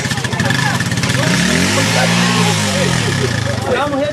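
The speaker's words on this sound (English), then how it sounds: "motorcycle riders are the alternative when vehicles fail to negotiate muddy roads" A motorcycle ridden along a muddy rural road, its mid-pitched engine revving up and easing off in a rising and falling sweep through the middle, heard close over a steady background rumble.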